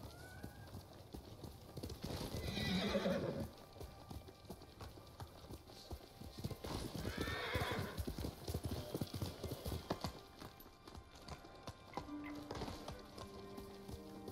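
A horse in Ghost of Tsushima galloping with steady, rapid hoofbeats, punctuated by two loud neighs, with ambient game sounds and a faint music line near the end, no talk.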